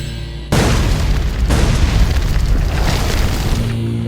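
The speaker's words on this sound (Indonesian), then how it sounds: "sebuah bom." A bomb blows open a cave wall, a sudden loud deep boom that swells into a long rumbling roar of debris lasting several seconds before easing off.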